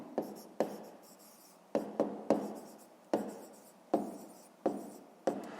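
Pen writing on paper during a fifth-grade math exercise: a series of about ten sharp, close scratchy strokes, each starting abruptly and fading, with quiet gaps between them.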